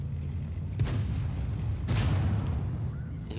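A tank cannon in a World of Tanks–style battle fires with two heavy booming blasts about a second apart, each a sharp broadband crack over a low rumbling engine drone, loud and close.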